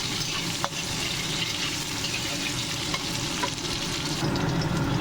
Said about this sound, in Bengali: এবার এর মধ্যে দিয়ে দেবো কেটে রাখা লম্বা লম্বা আলু। এটাকেও এবার লাল লাল করে ভাজবো।